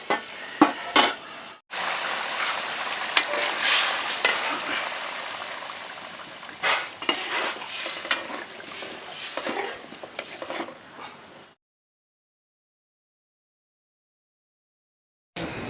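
Fish curry masala bubbling in a covered pot, a steady simmering and sizzling texture with a few clinks and stirring noises for about eleven seconds, then near silence.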